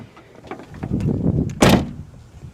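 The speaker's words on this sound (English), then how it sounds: "I guess we'll close the trunk." The rear liftgate of a 2010 Ford Explorer Eddie Bauer V8 is lowered with some rustling and then shuts with one solid thud, close by with no talk.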